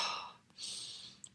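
A single breath drawn in through the nose and let out again, close and soft, with a brief airy rush followed by a quieter hiss and a faint click near the end.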